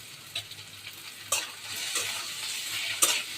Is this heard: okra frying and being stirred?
yes